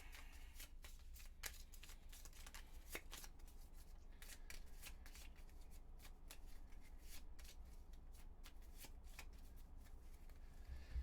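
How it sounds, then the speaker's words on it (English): Gloomhaven board game cards riffled and shuffled by hand, a close, dry run of rapid flicking snaps and soft slaps repeating steadily for several seconds with no talking. "so let's shuffle this."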